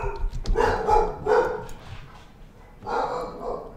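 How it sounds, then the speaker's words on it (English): Puppies bark in several short, high yips and bursts, somewhat distant and moderately quiet indoors, with pauses between the barks. "Hear my puppies barking?"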